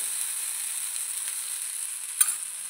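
Red chili powder sizzles in a hot pan with a steady, faint, high hiss, broken near the end by one brief clink.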